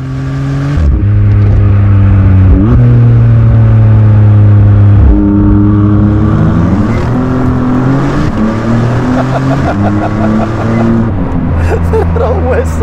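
A Maserati MC20 V8 fitted with a Novitec exhaust and race mufflers revs loudly and close, its pitch climbing and dropping in repeated sweeps with crackles between the revs.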